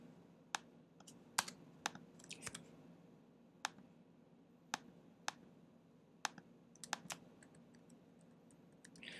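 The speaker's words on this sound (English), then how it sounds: "Okay, I'm hitting those different keys, and it sends out a bang when I hit this note." Computer keyboard keys are tapped one at a time, each press a crisp, close click separated by short irregular pauses, over a faint steady hum of room noise, with no talking.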